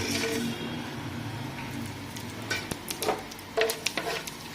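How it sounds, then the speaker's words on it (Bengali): Whole spices such as cumin, black cardamom, cloves, bay leaves, cinnamon and star anise are dropped into hot oil in a pan, giving a soft hissing sizzle with scattered crackles and light stirring clatter. "তেল গরম হয়ে গেছে। এই যে এটা আছে, সব রকম খাড়া মশলা আছে, এগুলো সব তেলের উপরে দিয়ে দিচ্ছি।"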